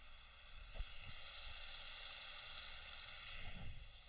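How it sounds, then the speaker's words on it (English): A burger patty sizzles steadily on a hot cooking surface, a continuous close, even frying hiss with a few faint low knocks, and no voices. "But I know you can hear that sizzle."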